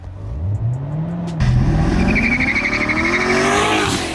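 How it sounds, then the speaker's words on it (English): A 700 hp Hennessey-tuned 2014 Chevrolet Corvette Stingray roars loudly as it accelerates, its engine pitch climbing steadily through the revs, with a high tire squeal partway through. "this is the 700 horsepower Hennessey Vet"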